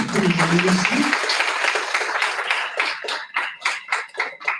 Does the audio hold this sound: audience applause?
yes